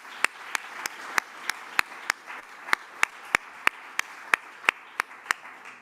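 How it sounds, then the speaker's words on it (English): A small lecture audience gives a sparse round of applause for Dr. Catherine Moran, heard as about a dozen distinct, evenly spaced claps, fairly close and light, with no voices. "I just want to give Catherine a big round of applause and thanks for all of her work."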